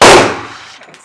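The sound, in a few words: gunshots at a gun range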